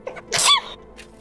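One sharp sneeze, with a brief intake before the burst and a quick breathy tail, close by and alone.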